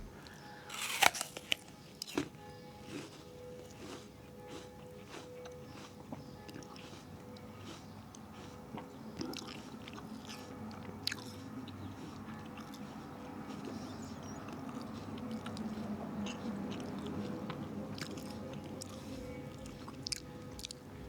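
Quiet, close crunching bites followed by steady chewing of food, with a few sharper clicks early on and low background noise throughout.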